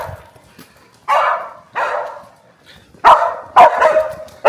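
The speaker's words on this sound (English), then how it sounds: "They get jealous and start barking and acting crazy." Dogs bark in loud, close bursts while playing outdoors, about five sharp barks with a gap early on and then coming faster, with no talk.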